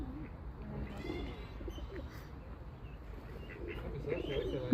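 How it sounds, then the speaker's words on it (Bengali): Pigeons in a park in France cooing softly in a low warbling murmur, with a few faint chirps and wing sounds, fairly quiet and some distance off, over light background noise. "কবুতর।"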